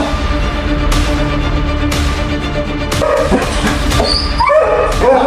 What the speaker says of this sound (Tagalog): Hindi na mapakalim yung aso.